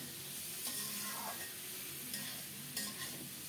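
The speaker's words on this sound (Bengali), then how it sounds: "এখন ভেজে রাখা সব সবজিগুলো দিয়ে দিলাম" Fried vegetables tossed into a spice masala in a pan, giving a steady low sizzle with a few scraping stirs, close and fairly quiet, no voices.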